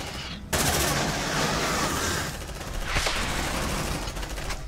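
Sustained automatic weapon fire in the video game Aliens: Dark Descent begins abruptly and continues loud and dense, with a sharper burst partway through.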